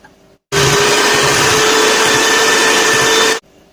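A steady, loud electric mixer whirs for about three seconds while beating cream cheese with powdered sugar for an Oreo cheesecake, starting and stopping abruptly.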